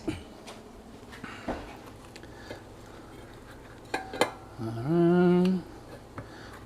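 A spoon is picked out from among metal cutlery and dishes in a home kitchen, giving scattered light clinks and taps, a sharper clatter, then a brief louder scraping ring before quiet handling resumes.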